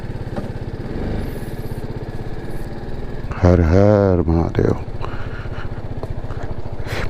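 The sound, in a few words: motorcycle engine while riding bike down hill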